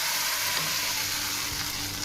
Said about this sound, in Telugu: ఆయిల్ బాగా హీట్ అయిన తర్వాత కొంచెం ఆవాలు జీలకర్ర వేసుకొని కొద్దిగా కరివేపాకు కూడా వేసుకొని